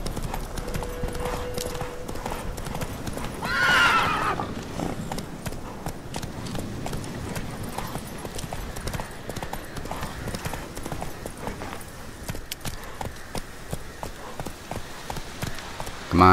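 A horse gallops in The Witcher 3: Wild Hunt with fast, steady, close hoofbeats continuing throughout, and a brief whinny-like burst near the start. No one speaks.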